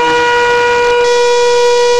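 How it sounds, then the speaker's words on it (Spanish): A shofar sounds a single sustained tekiah blast, a steady, loud, brassy horn tone held unbroken from start to finish. "la explosión o el toque, que es un sonido claro extendido como de trompeta,"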